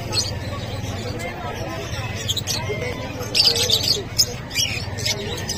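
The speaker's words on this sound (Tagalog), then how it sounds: "sa mga naghahanap ng mga pamadiinang ibon" Caged birds at the Bocaue pet market, including African lovebirds, give sharp chirps and squawks in short bursts, mostly in the back half, over a steady hum and someone talking to the camera.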